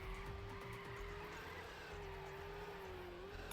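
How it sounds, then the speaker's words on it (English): A steady, buzzy engine drone with a thin electronic tone, wavering slightly in pitch, like a retro racing game, heard faintly and alone. "Sounds a bit like a NES racing game."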